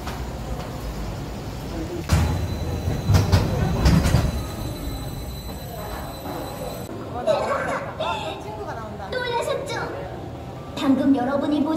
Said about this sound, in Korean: 갱도 체험 거미열차 타러 한번 가보겠습니다.